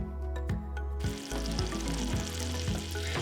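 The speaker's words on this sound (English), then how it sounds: "I've dropped my butter into my pot here. It's just about melted, nice and bubbly." Butter melts and bubbles in a soup pot for beef barley soup: a steady, close sizzle that grows louder and denser after the first second and holds through to the end, with no talking.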